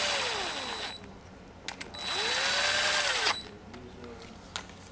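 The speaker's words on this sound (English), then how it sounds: "let me go ahead and put the screws in here" A power driver runs screws into a part from a Honda Accord J30A4 engine in two whirring bursts that rise and fall in pitch, with scattered clicks and someone talking.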